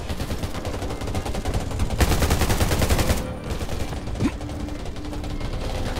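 Rapid bursts of automatic gunfire from a multiplayer shooter, Undawn, crackling near and loud in dense repeated volleys with brief gaps between them.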